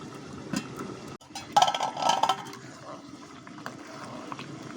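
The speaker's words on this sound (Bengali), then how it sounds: "এদিকে ভাত রান্না হচ্ছে" Rice boils in a pot on a home kitchen stove, a soft, steady watery bubbling and simmering with a brief clatter midway, fairly close and moderately quiet.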